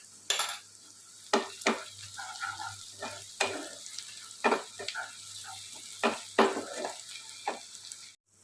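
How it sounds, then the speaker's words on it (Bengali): Chopped onion and garlic paste cooking in mutton fat in a pan, with soft frying under a series of sharp spoon-on-pan scrapes and stirring knocks at irregular intervals, close and fairly quiet. "এখন আমি এর মধ্যে দেবো রসুন বাটা"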